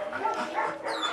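A small young shelter dog barks and yips in short high-pitched bursts, close by, with slight whimpering tones between calls.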